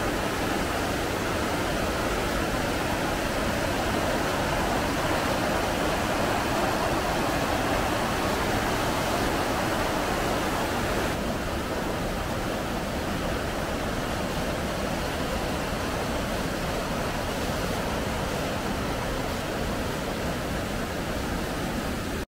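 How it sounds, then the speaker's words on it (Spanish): A muddy river swollen from heavy rain rushes loudly in the countryside near Manabao, Dominican Republic, a steady, dense, broadband roar that fills the scene continuously without pauses. "Seguro se escucha aquí en el micrófono el sonido del río, bastante alto."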